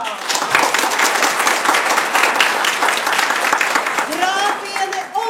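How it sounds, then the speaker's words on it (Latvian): An audience claps steadily and loudly after a school theatre production of Shakespeare's Twelfth Night, with a voice briefly heard near the end. "Un tātad ar aplausiem Viola Elza Jurevičā,"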